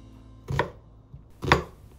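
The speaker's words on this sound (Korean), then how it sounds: "양파 반 개를 준비하셔서 큼직하게 채 썰어주시면 됩니다." A knife cuts an onion into large strips on a board in two sharp, close chops about a second apart, alone in a quiet room.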